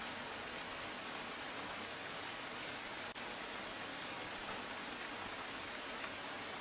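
Steady, dense rain falls across Panchmahal district in Gujarat, an even wash of drops on surfaces throughout, with no voices.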